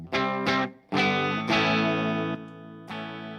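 An electric guitar played through a boost and distortion pedal rings out in loud, sustained chords, a few quick strums early then longer held notes that step down and fade, with no talking.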